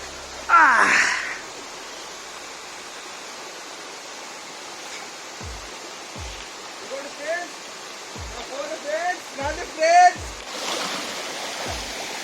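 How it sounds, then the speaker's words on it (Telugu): A waterfall roars as a steady, dense rush of falling water close by, with people talking over it and a few brief thumps. "ఇదిగోండి వాటర్ ఫాల్స్"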